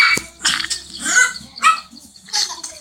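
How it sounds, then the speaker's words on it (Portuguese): A pet dog gives several sharp, close barks in quick, irregular bursts indoors, loud against an otherwise quiet room. "A minha cachorra tá aqui."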